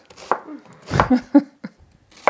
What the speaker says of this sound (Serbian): Ko što radim i seckamo luk.